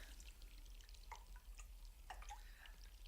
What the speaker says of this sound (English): The soft sound of streaming water. The sound of rain flowing through the zinc gutter.